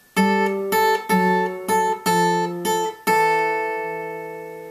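Acoustic guitar plays a blues turnaround of repeated ringing chords in a steady rhythm, each strum sustaining before a final chord rings out alone.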